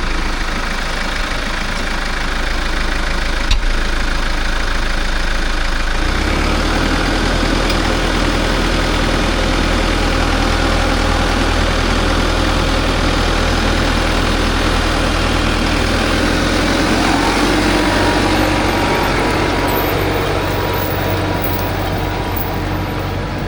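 A tractor engine is started and settles into a steady, close idle, a low continuous rumble with constant vibration that runs unchanged after start-up, with no talk over it.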